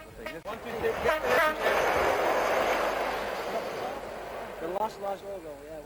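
A train rumbles past nearby and sounds its horn in short toots, first near the start and again near the end, with voices over it.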